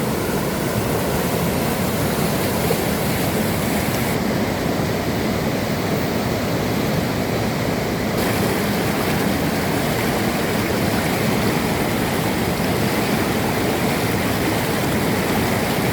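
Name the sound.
flowing stream water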